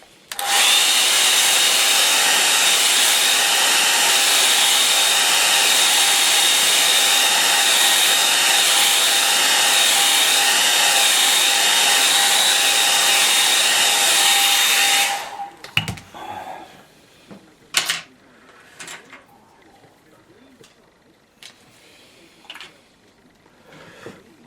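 A hair dryer blows steadily on a watercolour painting, a loud continuous whirring roar for about fifteen seconds that then cuts off, leaving soft scattered taps and rustles of brush and paper.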